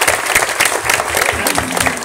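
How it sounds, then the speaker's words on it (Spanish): Audience applause at a live comedy show, dense and steady clapping from a crowd filling the whole stretch, with some voices faintly under it. "Bueno, un aplauso"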